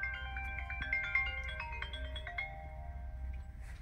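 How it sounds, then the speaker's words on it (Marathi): A phone ringtone plays a bright electronic melody of repeated chiming notes over a low hum, steady and fairly close, with no voices over it. "तेरा फोन बज रहा है।"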